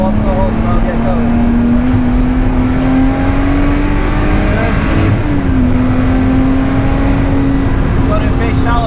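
A race car accelerates hard around the Oulton Park circuit, its engine droning loud and steady with a rising then dipping pitch as throttle is fed, while an instructor talks over the noise.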